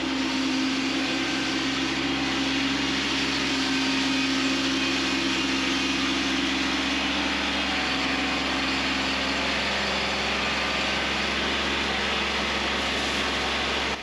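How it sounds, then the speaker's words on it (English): A Kubota B2601 compact tractor engine runs steadily throughout, a constant mid-level drone with a low hum, no voices. "All right, let's get back on the Kubota."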